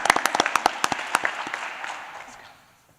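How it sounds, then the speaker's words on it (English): An audience at a school district board meeting applauds its teachers: sharp, distinct claps at first, then a looser patter that thins out and fades within a few seconds. "so let's give them a round of applause"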